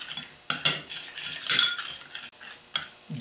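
Utensil clinks and scraping as a filling is thoroughly mixed with mayonnaise in a bowl, a string of close, irregular metallic taps and stirs with no voices.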